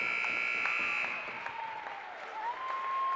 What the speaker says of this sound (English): and there at the buzzer